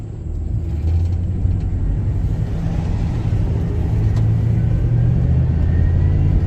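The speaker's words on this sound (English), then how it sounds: "We're going to wait for this truck here." A truck rolls past on US Highway 41, a loud, steady low rumble of engine and tires close by that swells slightly as it goes.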